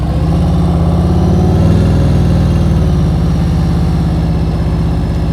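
A motorcycle engine idles and putters steadily at very low speed during slow-speed riding practice in Florida, a loud, continuous, even rumble close by with a slight swell midway and no other sounds.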